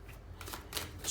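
Tarot cards being shuffled by hand, a soft riffling flutter in two or three quick bursts at close range, quiet and with no voices.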